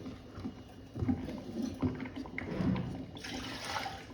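Ragi batter is poured into a pot while being stirred continuously over a low flame, giving soft wet sloshing and scraping sounds that rise and fall, close up, with a brief watery swirl near the end.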